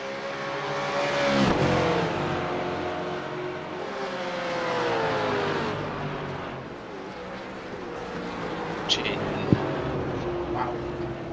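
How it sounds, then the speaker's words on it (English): V8 Supercars racing engines roar past in loud sweeping waves, pitch rising and falling as cars pass, with voices talking over them. "The V8 Supercars."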